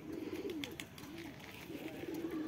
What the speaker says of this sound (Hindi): ये वाला कबूतर गुटा करा है